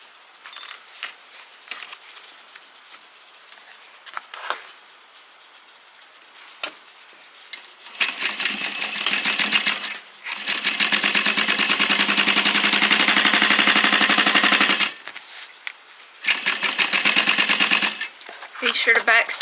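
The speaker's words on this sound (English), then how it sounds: "Be sure to back stitch really well at the beginning and the end so that it doesn't come loose" A sewing machine stitches fabric for a car trash can in loud, rapid mechanical runs of several seconds each, separated by pauses with clicks and handling sounds.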